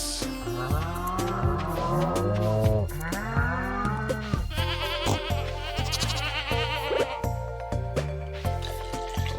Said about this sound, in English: It is time to milk these goats.